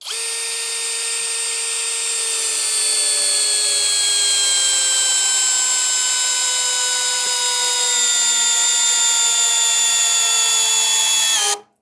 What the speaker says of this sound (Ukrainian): Чи вирішили перевірити, як можна полегшити закручування глухаря?